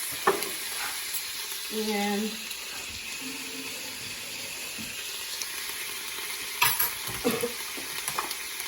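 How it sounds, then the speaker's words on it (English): A spoon stirs a sprig or two of thyme and garlic through a gently sizzling vegan butter seafood sauce in a pan, a soft, steady scraping and bubbling with brief voice-like tones early on. "and I just put one spring or two of the thyme in there. And I stir that around."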